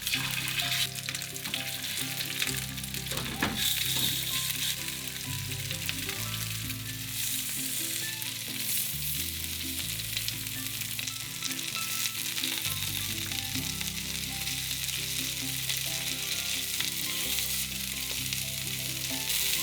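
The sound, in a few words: cod and daikon radish pan-frying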